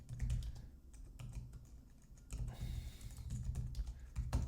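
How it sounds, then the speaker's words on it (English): Steady, close typing on a computer keyboard as text is entered, rapid key clicks over a low background hum with a brief lull midway. "then just type in some text that's going to go"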